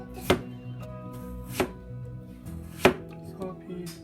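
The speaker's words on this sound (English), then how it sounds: "We cut it very thin, slice it very thin." A knife cuts thin slices from a potato on a cutting board, with a few sharp, distinct chops spaced about a second apart and a quiet pause between each stroke.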